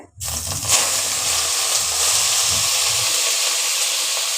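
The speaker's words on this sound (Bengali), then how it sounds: "এবার শাকটা আমি দিয়ে দিচ্ছি কড়াইতে" Loud, steady sizzle and hiss as wet red amaranth greens hit hot oil in a wok, settling into continuous frying.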